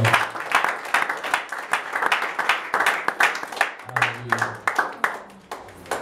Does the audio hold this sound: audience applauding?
yes